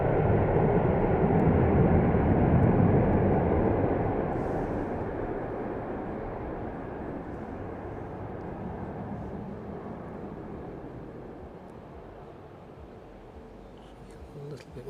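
A Malta Air Boeing 767 arriving on runway 09 at East Midlands Airport, a loud broad jet roar close by that slowly fades into a lower, steady rumble, with a voice talking over it.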